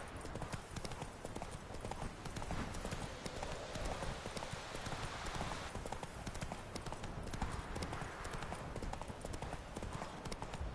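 Roach, the horse from the video game The Witcher 3, galloping with fast rhythmic hoofbeats that run steadily throughout, fairly close, under a constant layer of ambient game noise.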